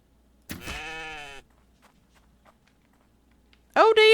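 A mountain goat in the survival video game The Infected gives two loud, close bleats, a long wavering one near the start and a shorter one at the end, with a quiet pause between them.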